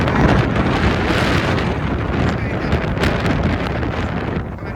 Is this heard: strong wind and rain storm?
yes